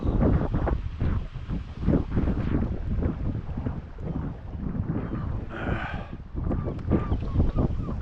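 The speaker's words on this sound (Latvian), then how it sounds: "Nu, bet baigais vējiņš sākās atkal." Strong wind buffets a small boat on a lake during a pike fishing outing, a steady rumbling roar of gusts across the microphone that persists throughout the clip, with faint voices beneath it.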